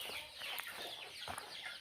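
Chickens cluck on a farm where crossbred cattle are raised, several short close calls overlapping in a busy, steady outdoor background with no talk.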